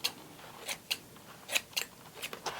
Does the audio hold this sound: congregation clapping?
no